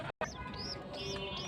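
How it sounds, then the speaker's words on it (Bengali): A pigeon feeding its chick gives soft, wavering cooing and thin squeaky calls close by, with one brief dropout near the start and faint background noise throughout. "আপনারা দেখেন আমার কবুতরের বাচ্চা কে কিভাবে কবুতর খাওয়াইতেছে।"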